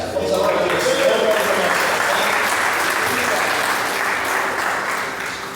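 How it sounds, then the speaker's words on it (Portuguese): A church congregation applauds in loud, dense clapping that holds steady, then begins to thin and fade toward the end. "Vamos aplaudir o Senhor."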